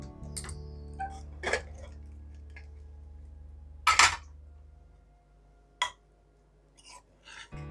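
Metal clinks and scrapes as a pressure cooker lid is worked open after the pressure is let out, several sharp separate knocks in a quiet kitchen with a low steady hum beneath.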